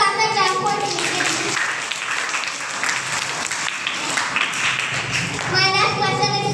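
Applause and clapping from a quiz competition audience for a team's correct answer, steady crowd clapping throughout with children's voices mixed in.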